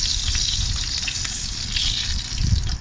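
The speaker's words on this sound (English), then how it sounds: "So we're gonna flip it. Get that nice sear." A freshly flipped tomahawk steak searing in a hot pan, a loud, broad crackling sizzle with a low rumbling undertone, close and continuous, no one speaking.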